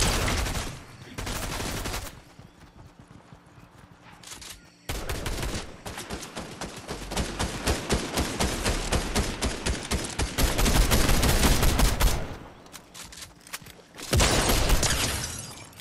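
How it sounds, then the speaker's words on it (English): Video game gunfire from a war shooter, loud dense bursts of rapid shots and crackling rounds that continue almost without pause, with a short lull early on before the firing resumes heavier. "I need you to shoot this guy."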